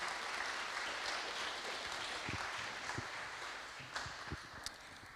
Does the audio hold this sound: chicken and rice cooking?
no